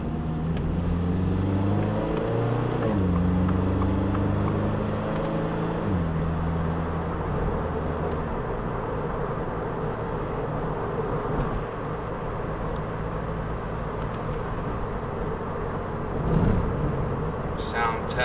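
Interior cabin noise of a Toyota GR86 on the road with windows up, a steady engine drone with shifting pitch as it accelerates and changes gear, under continuous talking.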